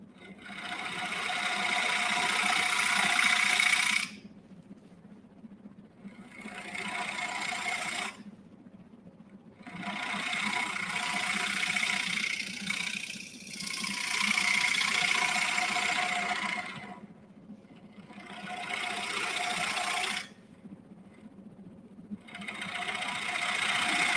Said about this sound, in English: I'm going to turn off the lathe real quick.